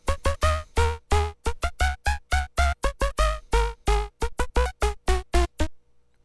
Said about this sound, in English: SerumFX, without everything going on, just sounds like this.